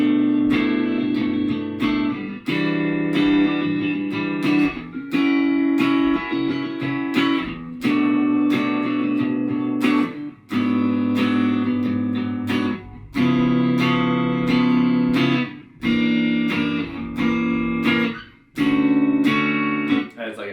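An 8-bar chord progression with warm sustained chords changing every couple of seconds, separated by brief gaps and repeating, played clearly and alone without talk.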